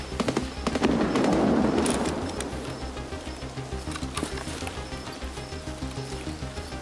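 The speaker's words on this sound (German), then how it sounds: "Rechts ganz gute Schüsse." A dense burst of sharp video-game gunshot cracks and pops in Escape from Tarkov near the start, settling into rapid rhythmic clatter that continues steadily to the end; no voices.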